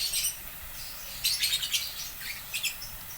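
A pet lovebird gives quick, high chirps and tweets in short scattered bursts, fairly close and moderately loud over a quiet room background.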